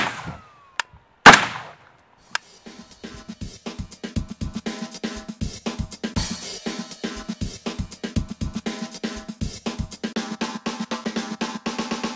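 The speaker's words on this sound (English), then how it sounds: "Muzzle brake on. Firing." An AK-47 rifle with a muzzle brake fitted fires a few separate shots, then a long rapid string of sharp, evenly spaced reports up close.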